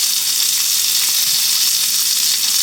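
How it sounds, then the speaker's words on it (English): Shrimp frying in leftover bacon grease in a pan for shrimp and grits, a steady, dense close sizzle that holds evenly throughout with no talk over it. "we're gonna put our shrimp in this same grease"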